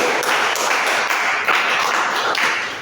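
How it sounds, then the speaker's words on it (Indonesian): Audience applause for student presenters at an Indonesian academic session, a dense steady wash of many hands clapping at close range, holding even throughout without voices on top. "Maksudnya mungkin kita kasih tepuk tangan lagi"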